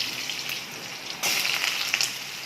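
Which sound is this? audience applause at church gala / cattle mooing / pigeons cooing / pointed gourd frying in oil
pointed gourd frying in oil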